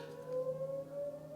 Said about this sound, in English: That storm siren is really distracting me.